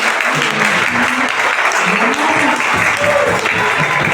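A church congregation applauds and acclaims Jesus, loud sustained clapping and crowd noise with voices calling out over it.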